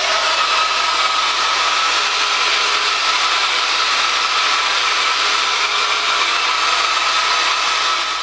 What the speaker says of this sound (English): when you decide you want the big bouncy wave, that's when you use the rotating brush